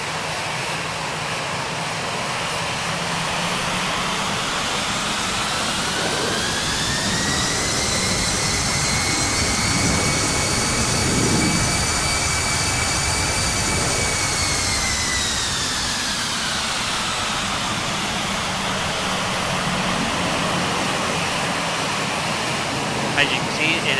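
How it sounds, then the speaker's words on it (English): Simulated Airbus A320neo jet engines with PW engines spool up as the throttle is advanced, a loud steady roar with a whine that climbs in pitch, holds high, then eases back down. "If we increase the throttle, we'll see that change"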